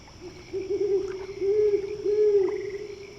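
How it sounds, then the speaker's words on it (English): Birds calling across a lake, a sequence of low hooting notes, steady and fairly loud, repeating over a quiet background. "mysterious birds communicating in some secret language"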